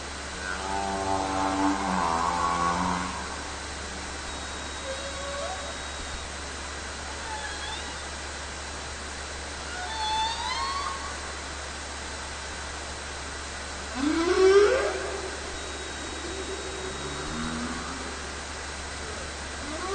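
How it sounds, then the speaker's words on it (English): Humpback whale song recorded underwater in Douglas Channel on the north coast of BC near Kitimat: rising moans and harmonic calls with upsweeping whoops over a steady hiss of ocean noise, distant and unhurried. "Here's the song of a humpback whale in Douglas Channel up on the north coast of"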